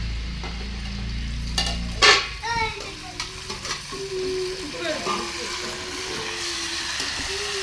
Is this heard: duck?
no